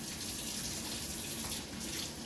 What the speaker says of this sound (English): I say rinse it off because you really can't go wrong by rinsing it off.